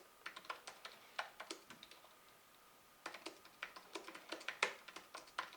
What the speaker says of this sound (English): this is the noise of the god-awful Mac keyboard